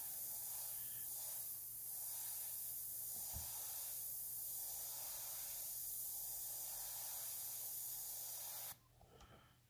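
A Badger Sotar airbrush sprays at about 10 psi, giving a steady, close, continuous airy hiss for roughly nine seconds before it cuts off abruptly.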